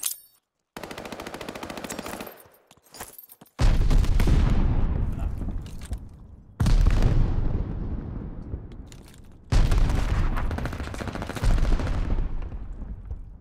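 Gunfire in a search and destroy video game match comes in heavy, close bursts: a burst near the start, then three loud blasts each trailing off in a long decaying roar, with no voices.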